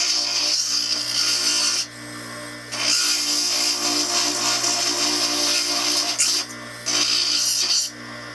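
Rotary tool grinding and trimming a thick area of a thumb partial denture, a high whining buzz in several bursts of one to three seconds with brief quieter pauses between, close and loud, no speech.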